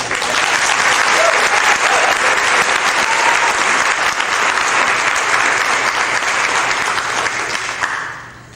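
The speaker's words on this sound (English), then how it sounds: "I'd really appreciate if you join me in a real robust round of applause for Karen" A school-event audience in Charlotte County gives a loud, sustained round of applause, a dense wash of many hands clapping for about eight seconds before fading out.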